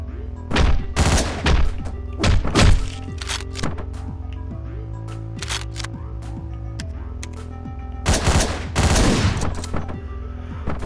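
Gunfire bursts in the top-down shooter game Hotline Miami, with loud clustered shots near the start and again near the end, and quieter thuds and game music between.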